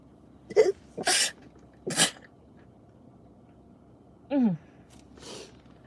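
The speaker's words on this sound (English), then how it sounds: "I'm gonna sneeze." A person sneezes close by, with a sharp intake of breath before it and a few breathy gasps and snorts around it in an otherwise quiet room.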